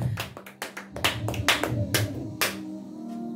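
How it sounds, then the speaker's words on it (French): A church congregation claps hard in praise of the Lord, sharp uneven hand claps ringing out in bursts close by, with no voices over them. "Acclamons très fort, acclamons très fort le Seigneur."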